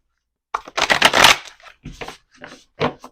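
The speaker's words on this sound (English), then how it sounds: "Sorry, you can't see me shuffling." Oracle cards being shuffled close by in several quick riffling bursts, separated by short pauses.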